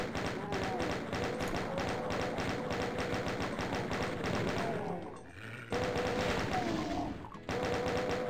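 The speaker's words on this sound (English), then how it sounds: "Okay, chain gun." Rapid, sustained chain gun fire from Doom on a close-quarters map, dense rattling bursts that run nearly nonstop with two short pauses, loud and close over game sound.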